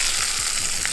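Cumin seeds and fresh curry leaves crackle and sizzle in hot oil, a steady close frying hiss for a peanut chutney, with no voice over it.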